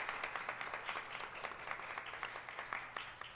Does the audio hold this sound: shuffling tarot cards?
no